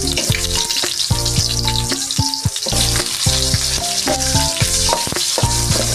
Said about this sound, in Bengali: তেলটা গরম হয়ে গেছে, এবার আমি পেঁয়াজ